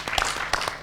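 Brief burst of audience applause for a boardroom discussion panel, with a dense patter of many hands clapping together for under a second, fairly loud and close.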